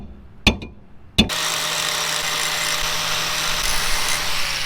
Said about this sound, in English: So I'm gonna hammer that a little bit and grind that a little bit.